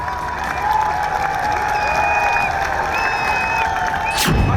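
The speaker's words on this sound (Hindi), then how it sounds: "कांग्रेस नेता को सुनने के लिए जबरदस्त भीड़ जुटी थी।" A large crowd at a Rahul Gandhi political rally in Jaipur roars continuously with cheering and applause, a dense, steady wash of voices that stays loud throughout.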